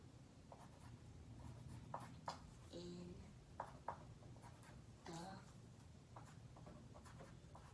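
A child writes on paper with a pencil, producing faint, soft scratching strokes in short irregular bursts, close but quiet, while an adult speaks briefly.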